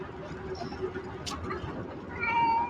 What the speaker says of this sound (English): That cat is just chilling.